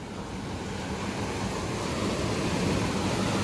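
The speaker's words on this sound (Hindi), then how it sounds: "आप सुन सकते हो कि पानी का शोर कितना है," Roaring rushing water from a heavily flowing river fills the air with a dense, steady, loud broadband roar that never lets up.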